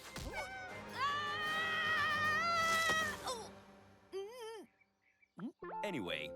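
A cartoon cat lets out a long, loud, wavering meow followed by several shorter yowls and mewls, close and prominent, in an animated Smurfs scene.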